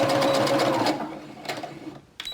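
Sewing machine running a side seam in fabric toward the end of the stitch line, a close whirring mechanical hum that slows and stops, with a short burst at the end.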